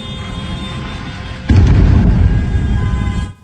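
Explosions from bombing in a Lebanese neighborhood: a loud, heavy blast erupts midway and its deep rumble rolls on for about two seconds over continuous low-frequency background noise.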